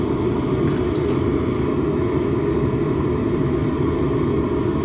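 Gas forge burner roaring steadily while a steel spike heats inside, a dense, constant low rumble with broadband hiss that holds without a break the whole time and no voices.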